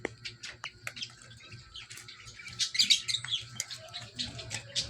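Bantam chickens chirp and cluck in quick, faint bursts at close range over a quiet background, the calls irregular and overlapping.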